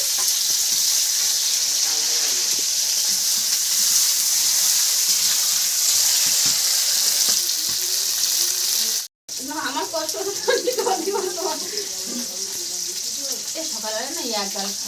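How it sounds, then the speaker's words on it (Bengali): Onion and potatoes fry in oil in a home kitchen, a loud, close, steady sizzle throughout, broken once by a brief gap, with a voice talking over the later part. "পেঁয়াজ দিলাম তেলের মধ্যে তেলের মধ্যে আলুগুলো দিয়ে দিচ্ছি"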